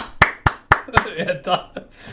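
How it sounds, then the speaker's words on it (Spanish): A few hand claps sound in quick succession from a lone person applauding in a played recording, sharp and close at first and then trailing off, with talking mixed in. "Ha habido como un aplauso ahí"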